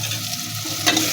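Garlic, cumin and turmeric paste fries in a pan for a village fish curry, a close, steady sizzle with a stirring scrape near the end.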